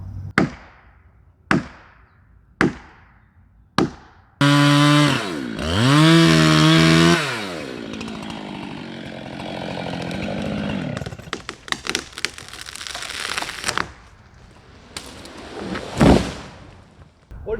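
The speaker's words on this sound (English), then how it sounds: "that big saw sometimes is almost too much. It's too powerful." A long-bar chainsaw cuts to fell a tree, first with a few sharp separate pulls or knocks, then a loud roaring burst of revving that drops into a rough cutting drone, with cracks and thuds near the end.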